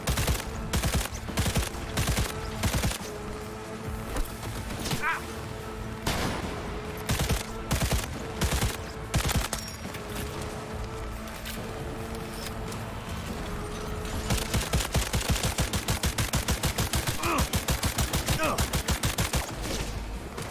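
Repeated close-range gunfire in Cyberpunk 2077: bursts of sharp shots, then a dense rapid automatic volley near the end, loud and up front, with brief combat voices mixed in.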